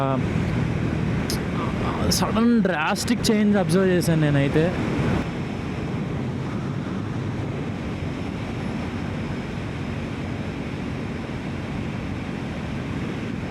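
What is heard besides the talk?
strong wind blowing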